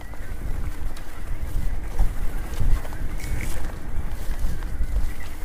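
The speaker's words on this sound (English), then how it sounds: "I think it's quite windy through this section" Wind buffets and rumbles across the open air on a mountain bike trail at Chatsworth, in uneven gusts, with faint rustling and a bird calling now and then.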